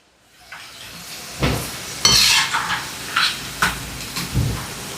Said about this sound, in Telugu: ఇప్పుడు స్టవ్ని లో ఫ్లేమ్లో పెట్టుకొని మధ్య మధ్యలో కలుపుకుంటూ మంచి బంగారు రంగు వచ్చేంత వరకు ఫ్రై చేసుకుందాం